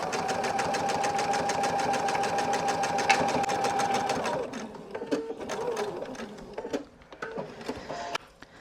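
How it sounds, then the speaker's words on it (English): A sewing machine stitches fabric in a fast, steady mechanical chatter close up for several seconds, then slows into a few short bursts and clicks as the run ends. "I'm going to sew the other side."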